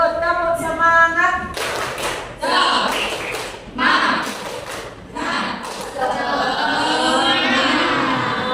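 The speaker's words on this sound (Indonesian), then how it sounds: "Tepuk semangat." A classroom of students does a rhythmic spirit clap, bursts of patterned hand claps and taps following one another under children's voices and chanting, fairly close and loud.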